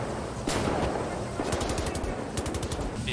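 Bursts of rapid machine gun fire crackle in the video game Wolfenstein: The New Order, loud and close, with a short rattling volley followed by a longer stream of shots over background game noise.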